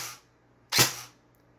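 A CM16 SRS airsoft rifle with a ZCI high-torque setup and custom internals fires one sharp, close shot with a short ringing tail, after a brief hiss at the start.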